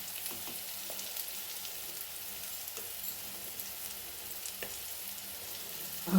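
Spices fry in a pan with a steady, quiet sizzle that goes on throughout, broken by occasional light ticks and scrapes of stirring.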